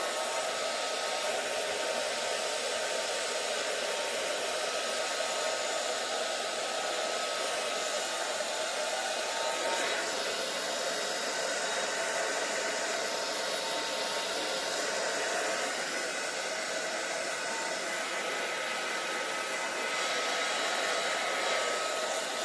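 A hair dryer blows steadily and loudly at close range, drying paint on a Dollar Tree craft cross, as a continuous airy roar with slight shifts in tone.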